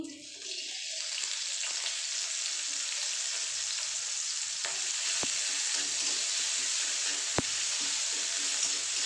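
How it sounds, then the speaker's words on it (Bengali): Chopped onions frying in oil, after aubergines have been fried in the same pan, give a steady, close hiss of sizzling that runs evenly throughout, marked by a couple of faint clicks from a utensil. "পেঁয়াজটা একটু লাল লাল ভাজা হয়ে যাক"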